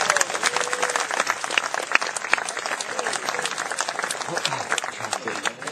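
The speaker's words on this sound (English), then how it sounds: "how about a nice big round of applause for Kiara?" Outdoor audience applause at a bird of prey show in a sanctuary, a steady wash of many hands clapping from a crowd, moderately loud and sustained throughout with faint voices mixed in.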